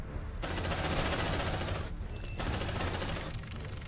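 Dense automatic gunfire rattles in the Aliens: Dark Descent video game, loud sustained bursts broken by a brief pause and then resuming, with no voices over it.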